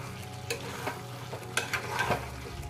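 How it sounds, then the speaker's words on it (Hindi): Potato and eggplant roast with Kashmiri red chilli and other spices in a pan, giving a continuous close sizzle broken by several sharp stirring scrapes of a spoon against the metal. No talk is heard. "मसाले के साथ थोड़ा देर सेक देंगे इसको"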